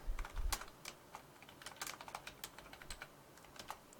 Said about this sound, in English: We type that in.